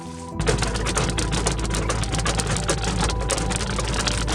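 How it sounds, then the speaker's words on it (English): Rain and hail pelt a car from outside while someone sits inside, starting abruptly as a dense, loud drumming of countless rapid impacts over a low rumble that stays steady. "that's the sound of rain and hail bouncing off my car"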